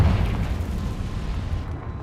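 The Confringo fire spell from the Hogwarts video game bursts in a deep booming explosion at the start, then decays into a rumbling, crackling tail that fades out.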